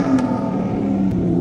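A BMW E36 320i six-cylinder engine idles and revs steadily close by, giving a smooth continuous hum with brief rises in pitch, with no talking over it.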